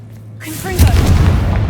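A Confringo explosive spell cast in Hogwarts Legacy lands as a sudden deep boom that swells from near-silence, followed by a rumbling, crackling burst that holds loud to the end.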